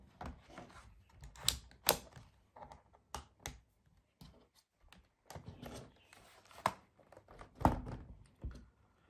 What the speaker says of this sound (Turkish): Bataryamızı geri takalım.